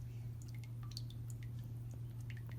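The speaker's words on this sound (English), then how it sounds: "So, now that the door is done draining, 15 hours later, that's a significant amount of water." Water drips out of a Ford Fairmont wagon door as it drains, a scattered run of small, close, irregular drops over a steady low hum.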